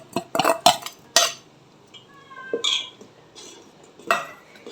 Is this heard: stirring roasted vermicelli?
yes